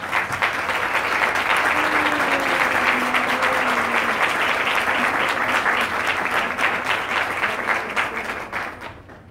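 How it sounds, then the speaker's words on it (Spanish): Loud sustained audience applause at a formal government event for a national export plan, a dense wall of clapping from a large crowd lasting several seconds before tapering off at the end. "quisiera pedir un fuerte aplauso para ellos"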